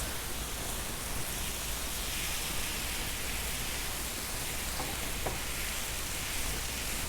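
Spinach cooking down in a pan makes a steady, soft frying sizzle, a constant hiss that stays even and close throughout with no talking.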